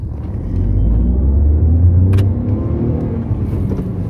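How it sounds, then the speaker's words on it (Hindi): A Tata Tiago hatchback pulls away hard in first gear, its engine a loud, steady low rumble that builds and holds throughout with no talking. "ये गाड़ी मैंने स्टार्ट कर दी, अब आपको मैं दिखाता हूँ कि कितनी स्पीड के अंदर ये गाड़ी जल्दी पकड़ती है"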